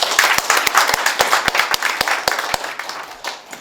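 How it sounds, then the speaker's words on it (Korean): Audience applause at a youth symposium in Korea: a hall full of people clapping warmly after a presentation, loud and close at first, then thinning and fading toward the end. "뜨거운 박수 한번 격려 부탁드립니다"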